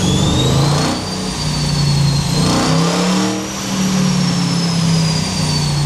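A Dodge Challenger 5.7 Hemi V8 engine on a dyno hums loudly at steady high revs, its pitch rising and dipping gently, with a thin whine riding above the drone.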